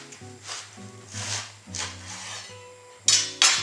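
A knife cuts through a leek on a board, giving several scraping, rasping strokes with short pauses and two sharper crisp cuts at the end, over faint steady background tones.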